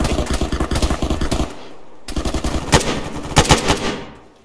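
Rapid bursts of machine gun fire rattle through a video game battle, loud and close, with heavy sustained volleys, a short lull, then more dense automatic fire trailing off.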